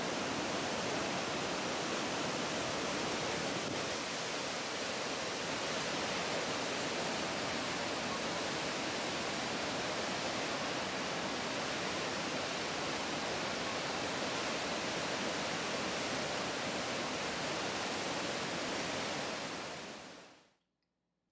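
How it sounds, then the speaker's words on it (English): A Norwegian waterfall pours with a steady, dense roar, broad and unbroken for about twenty seconds before cutting off, with no voices. "the lower frequency sounds of the waterfall"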